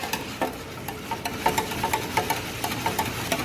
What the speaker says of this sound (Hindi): इसको अच्छी तरह हम मिक्सर की मदद से मिक्स करेंगे।